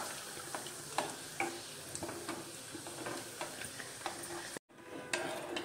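Raisins frying in ghee over low heat, a steady soft sizzle with irregular light stirring clicks throughout, a brief drop to near silence, then the sizzle resumes close by; no voices.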